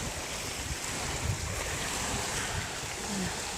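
Surf washing onto a hidden beach, a steady broadband wash of waves with wind buffeting the microphone throughout, no voices.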